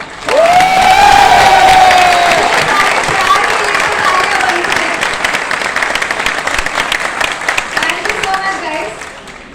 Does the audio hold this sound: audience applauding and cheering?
yes